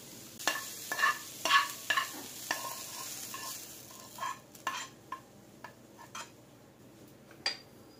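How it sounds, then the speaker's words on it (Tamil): A sautéed mixture tipped into batter and stirred by hand, with a series of irregular knocks and scrapes of a spoon against a bowl and faint sizzling between them, no talking. "இப்போ நம்ம வதக்குனத மாவுல கொட்டிடலாம்"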